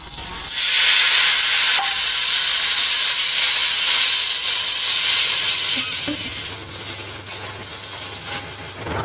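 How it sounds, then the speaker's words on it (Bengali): Onion frying with turmeric, cumin, salt and green chilli gives a loud, steady sizzle that holds throughout, settling slightly toward the end, with no talking. "এবারে এই পেঁয়াজটা ভাজা হতে দিলাম"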